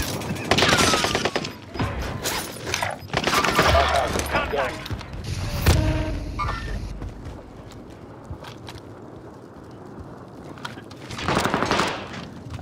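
Gunfire in the Warzone Rebirth battle royale: bursts of automatic shots crackle through the first seven seconds, loud and close, then fade before another volley near the end, with voices talking over parts of it.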